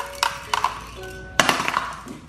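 A baby knocks hard toys together, giving a few sharp, clinking impacts spaced irregularly across a couple of seconds, fairly close and with no talk.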